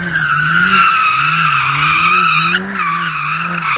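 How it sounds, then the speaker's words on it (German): A rear-wheel-drive car drifting sets up a loud, sustained tire squeal. The pitch wavers as it slides and shifts abruptly partway through, with engine noise underneath and no speech. "Damit kannst du Driften fahren."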